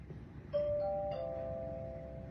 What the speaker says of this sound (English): Your doorbell is ringing.